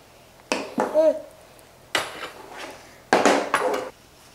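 Roasted gram (pottukadalai) tipped and scraped into a mixer jar for a ladoo, giving three short bursts of dry rattling and clinking against the jar, close and fairly loud, separated by brief quiet.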